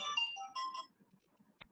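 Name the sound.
phone ringtone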